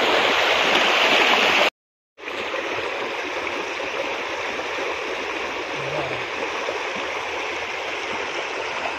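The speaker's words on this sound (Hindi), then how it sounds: "यहाँ पे देख सकते हैं जो ये है डैम, यहाँ से पानी काफ़ी ज़्यादा बढ़िया से जा रहा है" Water rushing through an old colonial-era dam, a loud continuous roar and gurgle of flowing water heard up close, briefly cut out near the start.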